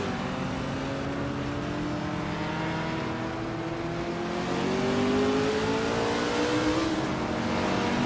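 A 1972 Chrysler Valiant Charger race car in a racing video game: steady loud engine note with rising revs that climb gradually and then shift, with no talking.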